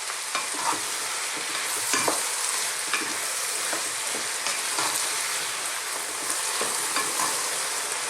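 Tomatoes soften in a pot for a vegan vegetable pasta stew, giving an even, steady sizzle with periodic scraping stirs throughout.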